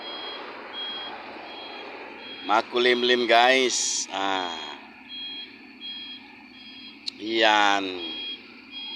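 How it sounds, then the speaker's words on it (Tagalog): A dump truck at a work site gives off repeated reversing beeps, steady tonal pulses that continue throughout, while someone talks over them at close range. "Umatras na ang dump truck namin"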